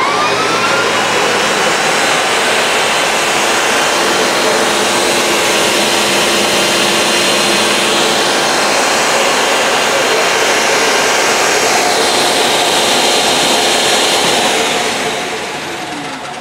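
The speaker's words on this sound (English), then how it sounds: "So let's turn on the shop vac. Let's turn on the table saw." Shop vacuum and table saw running at the same time, a loud steady broadband roar holding constant for about fifteen seconds before tapering off at the end.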